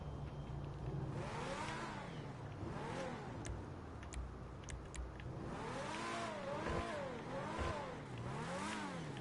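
Car engine revving in GTA V Online on a $1.7 million car, a close, loud motor rising and falling through several rev cycles with a steady low rumble underneath.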